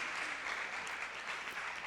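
A church congregation at a Sunday service claps together, a soft, even patter of many hands heard from a distance, brief and steady with no talking over it.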